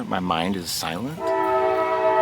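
A train horn sounds in a long, steady blast after a voice, sustained and moderately loud, fading in from a distance as the talk stops.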